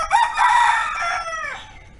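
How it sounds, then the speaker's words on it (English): A rooster crows once at a monastery with wooden bungalows, a loud, close, drawn-out call with a rising start and a falling end, heard alone. "That's a rooster."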